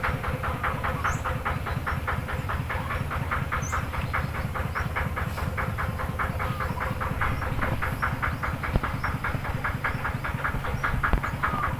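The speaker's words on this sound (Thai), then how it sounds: "เสียงรถไถออกไปออกไปแล้ว" A steady, loud engine chugs with a fast regular rhythmic clatter throughout, like a farm tractor running nearby and moving off, in a rural Thai village in the morning.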